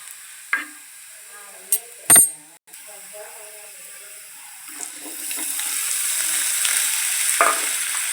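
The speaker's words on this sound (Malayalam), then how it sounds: "ശേഷം നമുക്ക് ഇതിലോട്ട് ഉരുളക്കിഴങ്ങ് ഇട്ട് കൊടുക്കാം" Potatoes and garlic frying in a pan: a few sharp clatters come first, then a quiet stretch, and a steady hissing sizzle builds through the second half. No voices.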